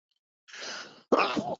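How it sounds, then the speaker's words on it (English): A single close sneeze, a sharp indrawn breath followed by an abrupt explosive burst, loud and alone. "Excuse me for sneezing."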